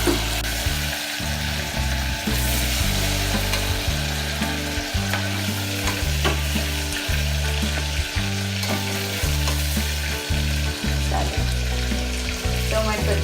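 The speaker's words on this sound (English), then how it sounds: "you can see it's filled with oil and frying" Potatoes fry in a pan filled with hot oil, a loud continuous sizzle with crackling and occasional stirring scrapes, close up and without talk.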